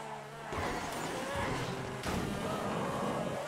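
Bugatti Divo hypercar driving in GTA 5, a continuous buzzing engine drone that swells in two surges, loud and steady with no talk over it.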